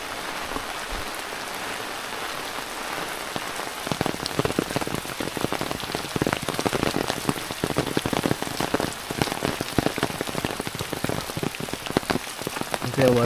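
Rainfall outdoors starts soft and grows noticeably heavier after a few seconds, becoming a loud, crowded patter of close drops until the end.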